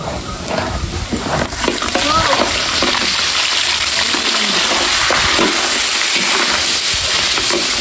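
Ginisang monggo ingredients being sautéed in a pan for a home lunch, giving a steady broadband sizzle and frying hiss with stirring and clinks, while voices talk over the cooking throughout.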